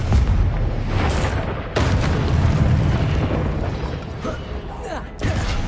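A Confringo fire spell from the game Hogwarts Legacy bursts in a loud, dense blast, with sharp booming hits near the start and again mid-clip over continuous roaring battle noise.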